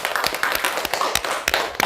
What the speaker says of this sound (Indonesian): saya minta beri tepuk tangan dulu untuk kita semua